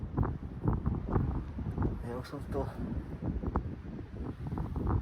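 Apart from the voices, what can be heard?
strong cold wind blowing outdoors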